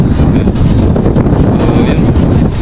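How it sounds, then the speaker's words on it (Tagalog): Wind buffets an outdoor microphone in a loud, continuous low rumble of gusts that masks everything else for the whole stretch, with no one talking. "Ang lamig ng panahon, mahangin, no?"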